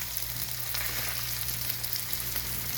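Food sizzles steadily in a pan while a spatula breaks it up, a dense close hiss with light scraping and crackle and no voices.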